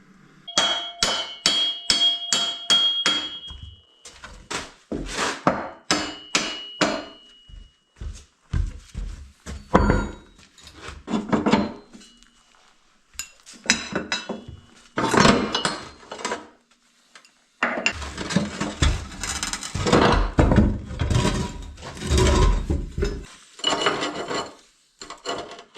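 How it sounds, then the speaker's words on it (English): Metal-on-metal hammering while driving a part into the track tensioner of a mini excavator, with bursts of clanking blows and scraping between pauses, close and loud. "Betting I can hammer it in there."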